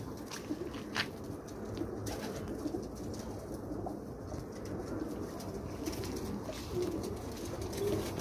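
Soft pigeon coos sound faintly outdoors under a constant background rush, with a few scattered clicks.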